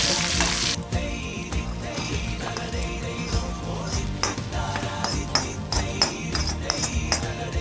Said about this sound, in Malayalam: കഴുകിയ വേപ്പില ഇട്ട് ഒന്ന് ചൂടായ ശേഷം നമ്മൾ അങ്ങനെ താളിച്ച് കൊടുക്കണം